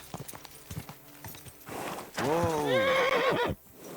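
A horse in Kingdom Come: Deliverance 2 gives a loud, close whinny lasting about a second and a half, its pitch rising and falling, after several soft hoof clops and brief voice sounds.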